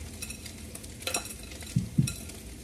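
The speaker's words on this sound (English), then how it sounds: "you're gonna go ahead and add 4 cups of day-old rice" Day-old rice dropped into a frying pan for kimchi fried rice, giving a soft sizzle with a few stirring scrapes and dull thuds as the rice lands, close and fairly quiet.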